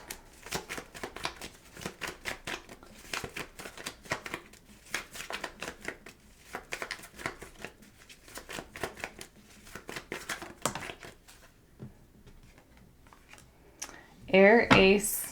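Tarot cards are shuffled in a rapid, papery flurry of riffles and taps that lasts most of the stretch, with a voice speaking near the end.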